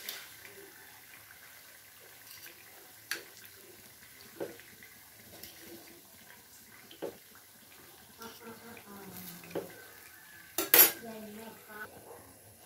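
A thin metal pappadam wire lifts fried unniyappam out of hot oil into a vessel, giving faint, scattered metallic clinks and taps against a quiet background, with a sharper clatter near the end.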